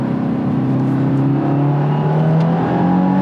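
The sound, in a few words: Subaru WRX engine revving during hard gear shifts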